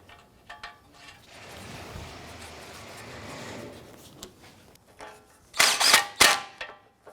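Torque wrench on the lower clevis bolt of a 2004-2008 Acura TL front suspension, tightened to 47 foot-pounds: faint ratcheting and shuffling, then two loud sharp clicks close together near the end.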